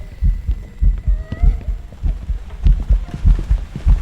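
Heartbeat effect during a ghost hunt in the horror game Phasmophobia: a loud, steady, fairly fast double-thump pulse that continues throughout, with faint tonal hum and game sounds behind it.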